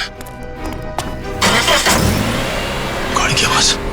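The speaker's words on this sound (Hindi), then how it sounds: "गाड़ी की आवाज।" A car engine starts and runs nearby, a rising rumble entering partway through over tense background music in a crime drama scene.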